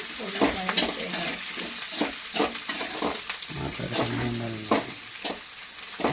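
Onions fry in oil with a continuous, moderate sizzle as a spatula stirs and scrapes the pan in repeated irregular strokes, close by and without talk.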